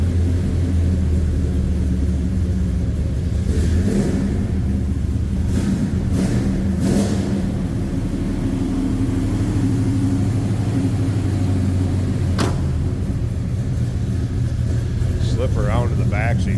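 A 1970 Chevrolet Chevelle Malibu convertible, still cold, idles with a steady deep exhaust rumble through Hedman headers and Dynaflow mufflers. It is heard from close by at the rear, with some talk over it.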